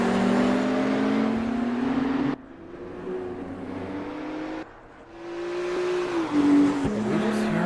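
A race car engine revs and shifts gears repeatedly on a track, rising in pitch then dropping, loud and close, with a brief whine near the end.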